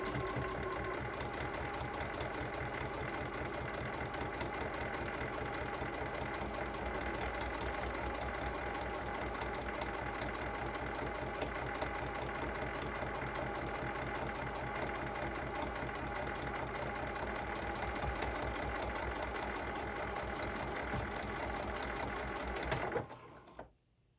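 A sewing machine stitches a seam on a Boston bag, running in one steady, fast mechanical whir for about twenty-three seconds before stopping abruptly.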